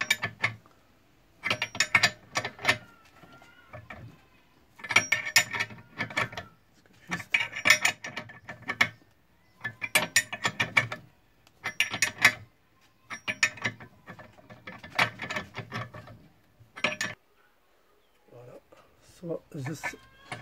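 Car front control arm bushing being pressed out without a hydraulic press, using a threaded tool: repeated bursts of metallic creaking, ratcheting and grinding, about seven distinct pulls in a steady rhythm with short pauses, close and moderately loud.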